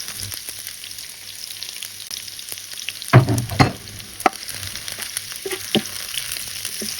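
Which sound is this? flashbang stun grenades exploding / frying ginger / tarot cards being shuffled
frying ginger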